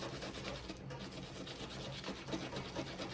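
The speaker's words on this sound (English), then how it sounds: "you wanna sand your pen because you want the epoxy to stick to the pen" Sandpaper scuffs the surface of a pen to prepare it for epoxy, a faint, steady run of rubbing and scratching strokes close to the microphone.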